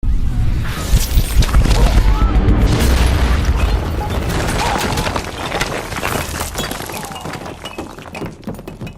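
Gambit from the X-Men blasts Wolverine with charged playing cards, a loud booming impact with crashing, shattering debris that slowly fades, with voices reacting underneath.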